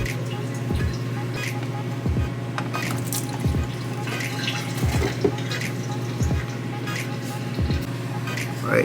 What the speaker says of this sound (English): Some of the oil are draining.